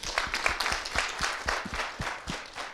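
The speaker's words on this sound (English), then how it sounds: "I want us to give those dedicated healthcare workers a round of applause." An audience at a community health meeting claps for healthcare workers, a steady close patter of many hands that carries on throughout with no pause.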